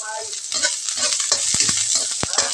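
Onion frying in a pan, a loud close crackling sizzle broken by sharp scrapes and taps of the spatula as it is stirred.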